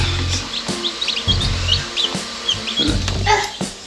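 Small chicks peep in high, quick chirps nearby, over a steady low mechanical hum with occasional soft thumps.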